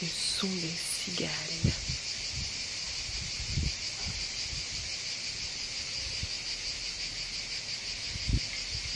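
Cicadas in summer, a steady high-pitched buzzing drone throughout, with a few brief voice sounds and soft thumps near the start.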